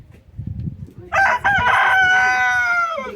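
A rooster crows once, loud and close, a long drawn-out call following a low rumble of background noise.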